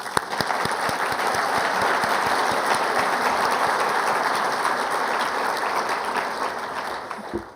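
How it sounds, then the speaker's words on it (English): Sustained applause from an audience at a 2018 professional association assembly during tributes and awards, a dense steady wash of clapping that holds loud throughout and tapers slightly at the end. "Please join me in a round of applause."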